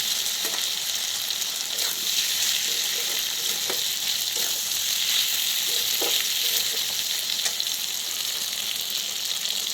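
Spice paste with ginger, garlic and green chilli frying in a pan for a potato, pointed gourd and soybean curry, giving a steady loud sizzle with occasional soft scrapes of stirring throughout.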